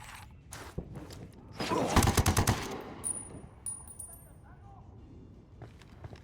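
Automatic gunfire in the video game Ghost Recon Wildlands rings out in a short, rapid, loud burst of shots, with quieter scattered shots and game sounds around it, with some voices in the background.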